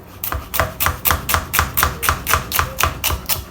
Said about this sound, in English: Just give it a cut like this, then this way, and then chop.